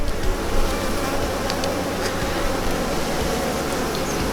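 Buckfast cross Welsh Black honey bees swarm around an open hive during a June inspection, making a dense, loud, continuous buzzing close by, with no voices over it.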